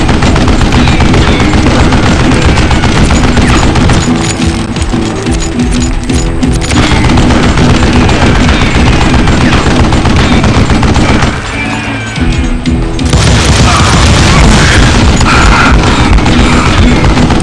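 Rapid, loud gunfire from the Western shooter game Call of Juarez: Gunslinger, sustained bursts of shots that fill the whole stretch, with a short lull near the middle before firing resumes.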